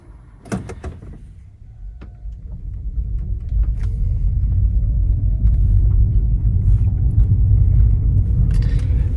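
Lexus CT200h hybrid car pulling away and accelerating, a low rumble and road noise building steadily from near silence, with a door or latch clunk near the start and no talking.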